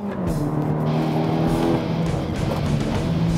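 Honda Civic with a remapped ECU, its engine accelerating under partial throttle: a steady loud drone with rising harmonic tones, continuous and close, with no talk.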